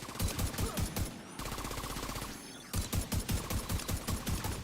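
Rapid automatic gunfire in The Division 2 on PC, dense bursts of shots firing almost continuously with a brief lull in the middle, loud and close with no talk over it.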